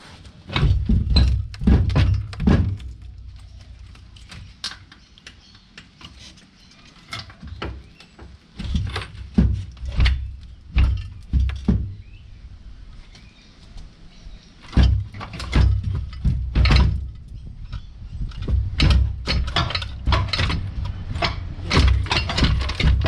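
A car gearbox is wriggled loose during removal, giving irregular loud clunks and metallic knocks in bursts with quiet gaps between them.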